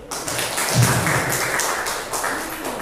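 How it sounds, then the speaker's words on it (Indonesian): Applause from teachers gathered at a school dissemination session on positive culture, a steady, fairly quiet wash of clapping hands lasting a few seconds in a room. "Kita tepuk tangan dulu."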